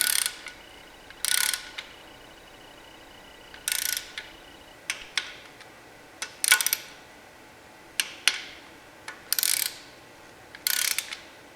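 A torque wrench tightens the oil pan bolts on a 427 big-block Chevy engine to 80 inch-pounds. Close, crisp bursts of ratcheting clicks repeat about nine times, with short pauses between strokes.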